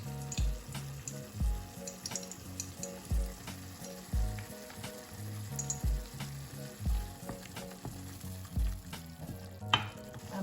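Banana kebab chutney with tomato paste sizzling and frying steadily in a pan, with occasional stirring scrapes and a brief splash of water near the end.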